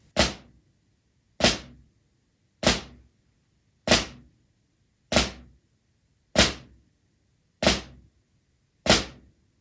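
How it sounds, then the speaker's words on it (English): Eight sharp drum flams, a grace note just before the main note, spaced evenly about every 1.2 seconds, each a crisp doubled attack with a short decay, played alone. "The flam is a rudiment that involves playing a grace note just before the main note."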